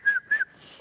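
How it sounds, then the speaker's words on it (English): Someone whistles two short, clear, high notes close up, each a brief steady tone, followed by quiet. "And I can whistle."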